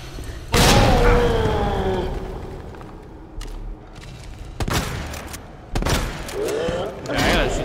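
A shotgun fires in Resident Evil 2, three or four loud, booming blasts spaced several seconds apart, each with a decaying tail, with a voice talking in between.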